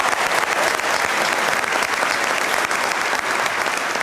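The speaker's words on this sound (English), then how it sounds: "Please give them a round of applause." A large crowd applauds at a high school graduation ceremony, dense, even clapping held at full strength throughout the four seconds with no pauses.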